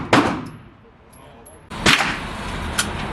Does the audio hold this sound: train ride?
no